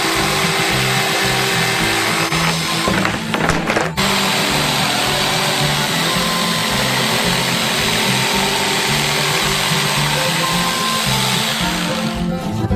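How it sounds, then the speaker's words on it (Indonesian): A wood saw cuts through a giant homemade Bounty coconut-and-chocolate bar, giving a loud, continuous, close-up machine-like whir that runs without pause, with a brief stutter early on. "lalu memotongnya dengan gergaji kayu."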